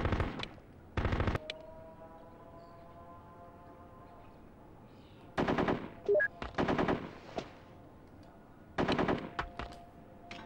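Heavy automatic gunfire in the Full Spectrum Warrior combat game on PS2, loud machine-gun bursts in several separate volleys with quieter gaps of battlefield ambience between them.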